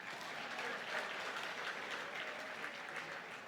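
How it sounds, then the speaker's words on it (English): An audience at a stakeholder engagement event claps steadily, a continuous even patter of many hands at moderate distance, with no speech over it. "Can I get a clap of hands from me, please?"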